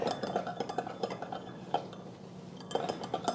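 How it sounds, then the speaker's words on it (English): Utensil stirring chow mein sauce with sugar in a pan, giving soft repeated scrapes and light clinks of metal against cookware, close and fairly quiet, with no talking. "And give it a stir."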